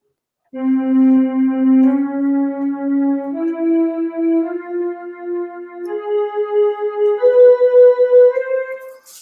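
A single sustained tone steps upward note by note in a slow ascending Phrygian scale on D, each pitch held smoothly before moving to the next.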